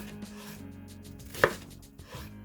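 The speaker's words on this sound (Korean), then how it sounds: "먼저 양파를 큼직하게 썰어주고요." A knife cuts onion into large pieces on a board, with one distinct loud chop standing out over a quiet, low background and a softer knock toward the end; no voices.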